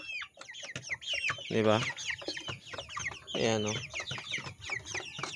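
Chickens cluck close by on a small farm, with a rooster-like call rising twice amid repeated short clucks, while someone speaks briefly over them.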